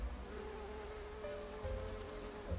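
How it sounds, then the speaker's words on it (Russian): A bumblebee buzzes steadily at a garden dacha, a continuous droning hum that holds close and fairly even throughout, with slight shifts in pitch as it moves, alone without talk. "Шмель. Шмелек."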